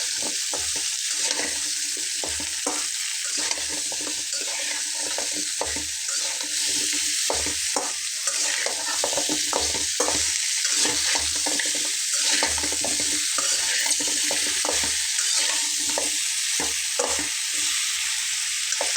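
Mixed vegetables for a vegetarian dish are stirred and fried in a pan with spices, a constant sizzle broken by frequent scraping, clattering stirs close up.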